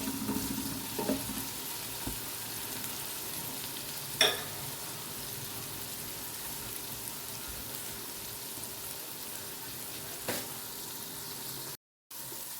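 Garlic and ginger paste fries in a pan with a soft, steady hiss. A few faint clinks and taps break in now and then, and the sound drops out briefly near the end.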